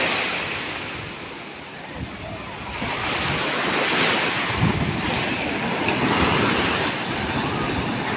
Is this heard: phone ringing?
no